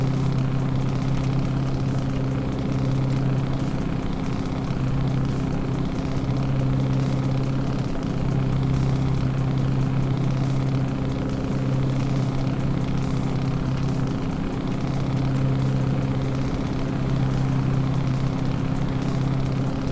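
A Mack Titan Superliner truck engine in American Truck Simulator drones with a steady, deep, even rumble that holds the same level throughout, loud and unbroken, with no talk.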